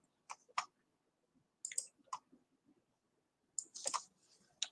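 Computer mouse clicks on a trading chart, a few sharp close taps in small clusters separated by near silence, quiet and dry.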